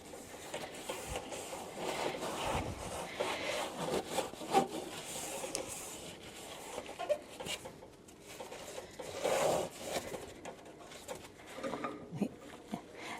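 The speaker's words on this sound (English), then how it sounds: "cup scrubber, just gently wiping down the inside like this, making sure that you're getting into all of the edges" Cup scrubber gently rubbing and wiping the inside chamber of a Harvest Right freeze dryer, quiet irregular scuffing strokes that rise and fall with a hollow metallic tone, close by with no talk.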